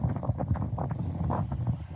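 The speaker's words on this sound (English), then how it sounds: "And it's very windy." Strong gusty wind from a storm in the UK buffeting the microphone, a loud continuous rumble with fluctuating gusts, no voices.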